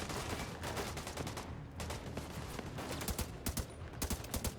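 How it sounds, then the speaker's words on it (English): Dense automatic and rapid gunfire from a firefight in the video game The Division 2, steady bursts of shots layered over one another throughout, loud and close with no talking. "Terrible shooting, Demajen."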